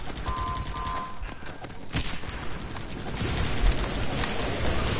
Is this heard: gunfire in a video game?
yes